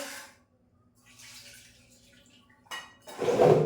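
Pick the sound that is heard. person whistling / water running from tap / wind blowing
water running from tap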